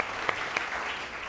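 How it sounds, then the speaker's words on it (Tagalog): A church congregation claps for Jesus during a Sunday service, brief steady applause at moderate level with a couple of sharper claps standing out. "Yung pong the best na palakpak para kay Jesus."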